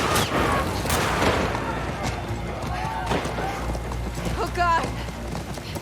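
A horse gallops in the video game The Last of Us Part II, a rapid hoof rhythm mixed with bursts of gunfire and booms, while voices speak over the action.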